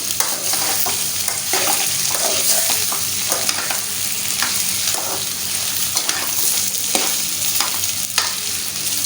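Potatoes and grated onion stirred and fried in a pan for a potato and egg dish, a steady close sizzle with frequent scraping stirs running through without pause and no talking.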